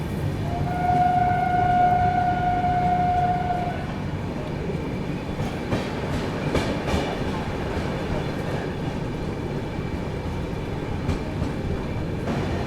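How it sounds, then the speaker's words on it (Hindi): The Gitanjali Superfast Express runs through Sevagram station without stopping, a loud continuous rail roar with a long sustained horn blast near the start, then steady rumbling wheel noise. "प्लेटफॉर्म क्रमांक 4 से स्किप कर रही है अपनी गीतांजलि एक्सप्रेस सेवाग्राम की"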